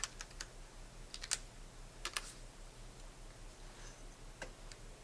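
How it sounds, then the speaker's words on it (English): Quiet clusters of key clicks sound as a command is typed on a computer keyboard into the Half-Life developer console, with short bursts of taps separated by pauses. "I'm going to type in the command in the console, reload."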